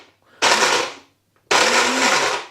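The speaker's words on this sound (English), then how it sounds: "So we're just going to blend these hazelnuts in our blender." Kitchen blender pulsing hazelnuts in two short bursts, each a loud grinding whir lasting about a second with a brief silent gap between, the second burst slightly longer.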